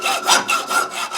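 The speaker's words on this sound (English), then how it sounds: "I converted my bandsaw to cut metal" A metal-cutting conversion of an old bandsaw cutting through stock, heard as four or five loud, evenly spaced rasping strokes in close succession, each swelling and fading with no talk.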